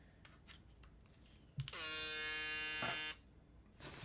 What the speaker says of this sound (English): y'all heard a little bit of how the shaver sounded